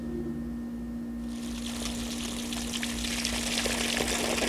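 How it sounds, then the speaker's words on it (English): Water rushes steadily from a newly installed garden hose spigot, a loud continuous hiss and splash that starts abruptly after a second of quiet and holds on to the end. "So now let's see if the water is going to come out here."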